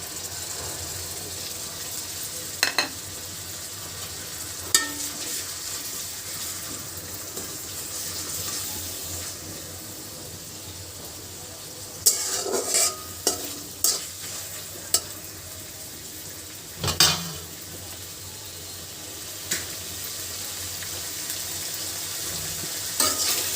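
Onions frying in a pan with garlic and ginger paste added, a low steady sizzle running throughout, punctuated by scattered clinks and scrapes of a utensil against the pan, with a few clustered knocks midway.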